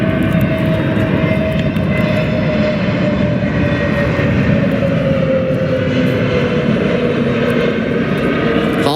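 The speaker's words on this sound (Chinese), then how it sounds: "后轮落地插烟，反推装置打开" A China Southern Airlines passenger jet touches down on its main wheels as the thrust reversers open, a loud continuous engine roar with steady broadband rumble filling the whole stretch.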